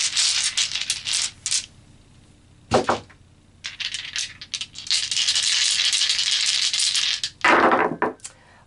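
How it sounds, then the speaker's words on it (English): Tarot dice are shaken and rolled, giving loud clattering rattles in several bursts with short pauses between them, close to the mic and with no talking. "So let's pull some tarot dice,"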